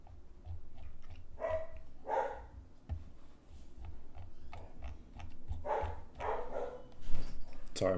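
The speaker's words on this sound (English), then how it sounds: "Sorry, my dog is barking." A pet dog barks in short bursts somewhat away from the microphone, the barks recurring over a steady room hum during a livestream.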